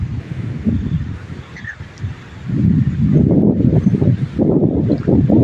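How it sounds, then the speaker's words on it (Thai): Steady gusty wind before rain roars and rustles outdoors at night, swelling louder in the second half, with no talking. "ลมพัดมาจะมีฝนตกแล้วลมพัดมาช่วยมาแล้ว"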